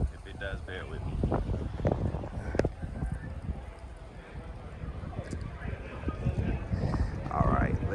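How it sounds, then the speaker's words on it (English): Gusty outdoor wind buffets a camera microphone as a Ferrari car show goes on around it, a steady low rumble with bursts of louder blustering, mixed with nearby voices and crowd noise. "That wind just picked up. I hope that doesn't mess up my video."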